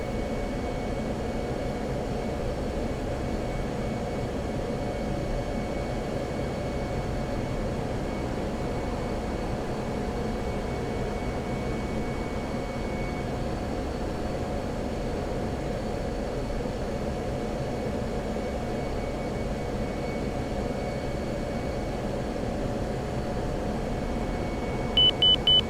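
An F-16C Fighting Falcon jet lands in the flight simulator game DCS with the throttle pulled back to idle, giving a steady, loud engine roar with a faint tonal whine throughout and a short series of beeps at the very end.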